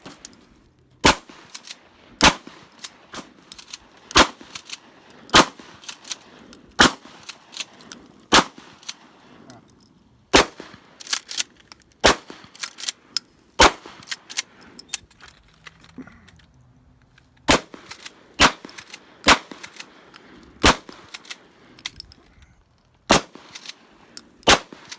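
A Maverick 88 pump shotgun fitted with a Shockwave grip fires roughly twenty sharp, loud reports at irregular intervals of one to two seconds, with quieter handling noise between shots.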